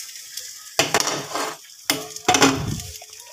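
Fried potatoes are stirred into a spice masala in a pan for a pangas fish kalia. Two close bursts of scraping and sizzling stirring, each followed by softer frying, with no talk.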